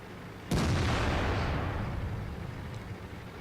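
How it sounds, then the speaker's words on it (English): Artillery fire in World of Tanks, T110E5 tank battle: a single sharp, heavy boom at the start that rolls off into a long fading rumble, fairly quiet overall, with no voices. "At least I think that's artillery."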